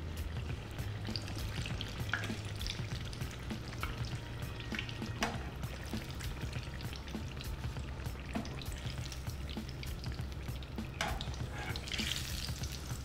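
Eggplant frying in hot oil, a soft, steady bubbling sizzle with faint scattered crackles and light utensil taps, continuous and fairly quiet.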